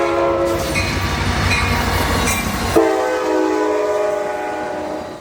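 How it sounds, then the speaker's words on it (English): An Amtrak California F59PHI locomotive sounds its classic horn in a long, loud, sustained chord that cuts off abruptly, leaving quieter rail rumble and clatter behind it. "the best horns in this bubble are for certain 2013 for its classic F59 PHI horn"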